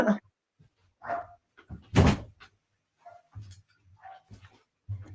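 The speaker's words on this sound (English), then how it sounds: "I'm a little distracted by the dog." A dog indoors in a home gives scattered short barks and whines, several brief yips spaced irregularly with quiet gaps, close and moderately loud, with faint background voice.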